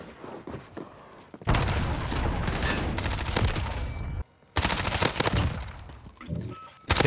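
Rapid MP5 submachine gun fire in the shooter game Modern Warfare, two long dense bursts of fast rattling shots, loud and close, with a short gap between them and game noise before.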